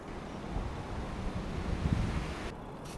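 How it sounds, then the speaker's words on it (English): Strong countryside wind buffeting the microphone in a garden in a steady low roar, with gusty rumbles swelling in the middle before easing. "It's suddenly super windy"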